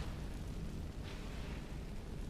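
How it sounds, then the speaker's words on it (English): A fire spell cast in Skyrim, heard as a steady roaring, rushing burst with a dense, continuous flame-like texture and no speech. "You're shooting fire at it."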